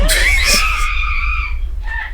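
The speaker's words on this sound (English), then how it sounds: "enough with the screaming" A woman screams in a loud, high, sustained cry from the film Jennifer's Body, which trails off and is followed by a shorter second shriek.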